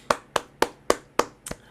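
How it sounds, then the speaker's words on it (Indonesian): Hands clap at a church service: six sharp, evenly spaced claps ring out clearly in a slow, steady rhythm, and no one talks. "Kita beri tepuk tangan dulu di tempat kita masing-masing ya."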